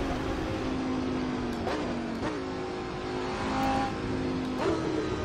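A Lamborghini Huracán GT3 race car engine in Assetto Corsa on the Nordschleife drones steadily at high revs, with brief shifts and pitch changes as it accelerates through corners, loud and close throughout with no talk.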